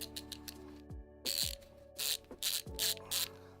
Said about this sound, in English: I'll just use the LTT. It has nice ratcheting sounds.